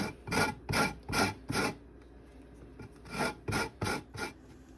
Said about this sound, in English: you're just going to put the lemon peel across the grate